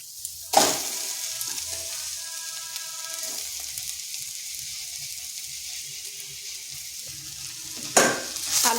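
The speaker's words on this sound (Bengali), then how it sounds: "আলুটা ভালোভাবে মিশিয়ে নিচ্ছি" Mashed boiled potato stirred into carrots and onions frying in a small amount of oil, with a steady close sizzle throughout and a louder scrape and clatter of the spoon in the pan at the start and end.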